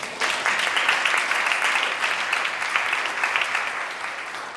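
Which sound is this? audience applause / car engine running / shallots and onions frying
audience applause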